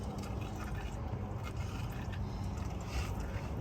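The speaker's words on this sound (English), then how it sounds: "That's why it's dripping like that." Engine oil draining and dripping from the oil filter housing of a 2011 Chevy Tahoe, a steady close trickle of liquid with faint scraping and no talk.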